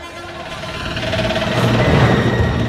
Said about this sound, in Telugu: శుభలక్ష్మి ఆటో వెళ్ళిపోతుంది.